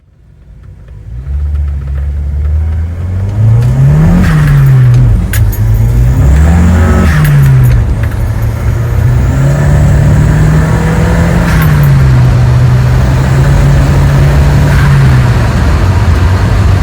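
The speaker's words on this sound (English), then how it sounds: "It's pickup day for Dan's Volvo 242. He's coming back down." A Volvo 242 Group A car engine runs loud and close, rising from idle into a sustained drone with repeated revs swelling and falling.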